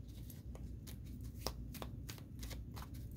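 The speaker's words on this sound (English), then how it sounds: "Two more shuffles," Tarot cards being shuffled in quick riffling bursts, crisp papery flutters repeating over a steady low background hum.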